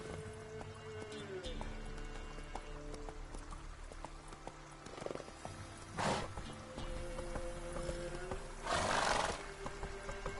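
Roach the horse gallops in The Witcher 3, with rhythmic hoof clip-clops under game sounds, several loud whooshing bursts and a growling roar, while someone speaks over it.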